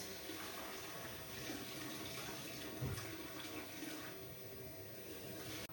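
Warm water pours steadily into a jug in a home kitchen, making a continuous, fairly close rushing splash with no talking.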